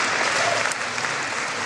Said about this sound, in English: Give him a round of applause, man.